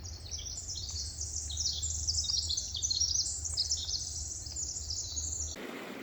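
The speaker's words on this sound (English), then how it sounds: "along the way got to hear some birds singing in the trees" Birds sing high in the trees along a forest hiking trail on Tiger Mountain near Issaquah, Washington, a continuous stream of chirps and warbles heard faintly from a distance over a low steady rumble, with no voices.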